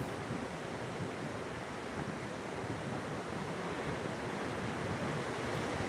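Sea waves break and wash onto a beach in a steady, loud roar with wind buffeting the microphone, continuous for the whole stretch with no voices.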